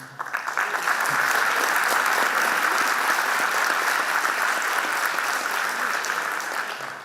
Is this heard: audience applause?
yes